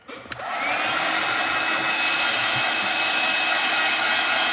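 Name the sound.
hair dryer drying washed acrylic painting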